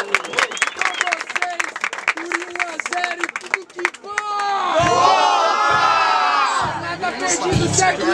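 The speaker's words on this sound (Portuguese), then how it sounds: "Achou que o Saboó foi superior, faz barulho" Crowd at a Guarulhos student rap battle erupts into loud cheering, shouting and clapping after a stretch of an MC's amplified voice, building to a sustained, dense roar of many voices.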